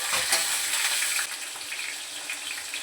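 Cumin and crushed garlic fry in oil in a wok with a steady, close sizzle that eases slightly partway through.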